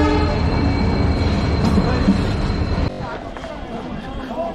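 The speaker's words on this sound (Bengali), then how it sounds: "আমাদের ট্রেন চলে আসছে তারাপীঠ যাওয়ার।" A passenger train bound for Tarapith pulls into a station, its loud, dense rumble and a sustained horn tone filling the foreground, then the noise drops suddenly as wheels and platform sounds carry on, with people talking throughout.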